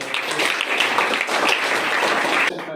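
A crowd at an Independence Day program gives loud, dense, continuous applause that holds steady throughout and cuts off abruptly at the end.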